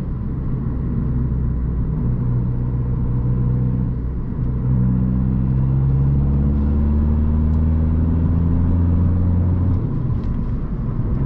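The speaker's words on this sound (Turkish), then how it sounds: "Egzozun sesini duyabiliyor musunuz bilmiyorum ama gerçekten güzel bir ses sahip" A Peugeot 208 1.4 HDi diesel hatchback heard from inside while driving, with a steady low engine and exhaust drone and road rumble. A gentle rise in revs comes midway, and there is no talk.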